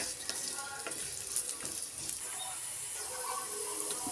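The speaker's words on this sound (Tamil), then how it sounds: "பிரண்டை நல்லா சுருங்கி வர்ற அளவுக்கு நல்லா இந்த எண்ணெயிலே வதக்கி எடுத்துக்கலாம்." Pirandai, adamant creeper, sautés in hot oil with a close, hissing sizzle and occasional stirring scrapes, steady and fairly quiet, with no one speaking.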